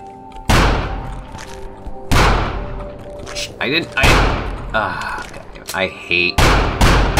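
Sharp, loud gunshots from a firearm in the video game The Final Station, four or five heavy blasts spread across the stretch with a reloading clatter between them, while someone talks over the shooting.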